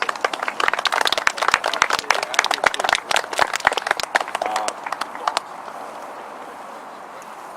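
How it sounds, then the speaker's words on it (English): An outdoor crowd at Fort York gives a round of applause after a musket firing demonstration, with dense, lively clapping for about five seconds that then fades away to quiet background with a few voices. "Let's give these guys a round of applause."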